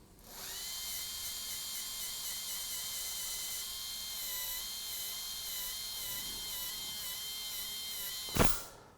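A dental handpiece spins rubber polishers to finish direct composite veneers, giving a steady high-pitched whine that runs almost unbroken for several seconds, then a short sharp burst near the end.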